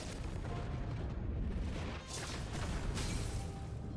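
An explosion in the video game Honkai: Star Rail rumbles in a loud, sustained low boom with crackling bursts, filling the whole moment without speech.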